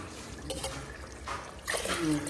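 Water poured from a tumbler into a cooking pot for mutton biryani, a short trickling splash that swells into a fuller pour near the end, close by with faint background noise.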